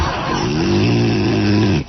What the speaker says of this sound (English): You said you wouldn't snore.